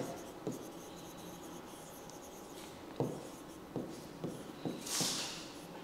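Writing on a board during a physics lesson: scattered, faint scratchy strokes and taps in a quiet room, with a few sharper marks and a brief scrape near the end, no talking.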